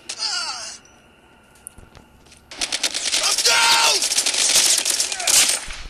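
Automatic gunfire in a Call of Duty Mobile hardpoint match, with a short burst, a quiet lull, then sustained loud rapid shooting through the last half.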